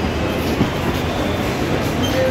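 A metro train rumbles loudly and continuously nearby at a Delhi Metro station, with a faint squeal of wheels on the rails.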